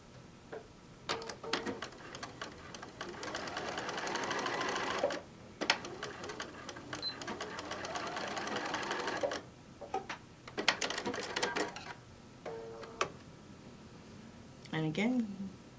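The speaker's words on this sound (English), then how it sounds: "I'm going to flip it up and top stitch it" Sewing machine running in long steady bursts while top stitching a fabric apron panel, a close mechanical whir with rapid ticking needle strokes, pausing between runs as a person talks over and between the stitching.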